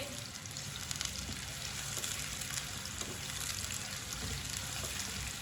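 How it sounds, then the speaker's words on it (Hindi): Finely chopped onion sizzles steadily in half a cup of hot oil as it browns lightly, a dense, even crackle that runs without a break from start to finish. "एक बरीक कटा हुआ प्याज, प्याज को हल्का सा ब्राउन कर लेंगे।"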